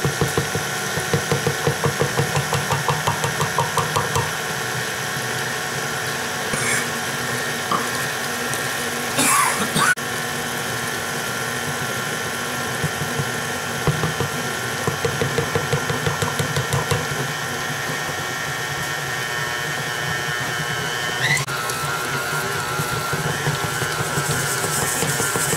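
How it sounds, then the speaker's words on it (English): Stand mixer with a paddle attachment kneading pumpkin, egg and whole wheat flour dough for dog biscuits, a steady loud motor whir with rhythmic churning and knocking that runs throughout. "we're going to let this go until a nice dough ball forms around the paddle inside the mixer."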